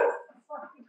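A dog barks in short bursts, a loud yap at the start and then softer yips and whimpering, with people talking nearby.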